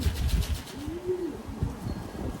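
A black racing pigeon hen gives a single soft, low coo that swells and falls near the middle, close by over a murmur of background noise and faint movement.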